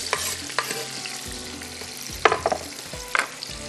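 Chilies and tomatoes tipped into a pan of onions browning in oil with garam masala for yakhni pulao, a steady sizzle under repeated scraping stirs and a few sharper clinks of the spoon against the pot, no voices.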